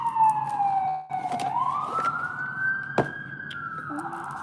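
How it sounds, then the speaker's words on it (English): A siren wails with a rising, sliding tone, moderately distant, over low traffic rumble, with a brief sharp knock partway through. "You hear the sirens"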